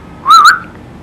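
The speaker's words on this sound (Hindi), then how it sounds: "उसको पीछे से किसी के सीटी मारने की आवाज सुनाई देती है" A single sharp two-note whistle from someone unseen behind, loud and close, sounding alone as a horror-story sound effect.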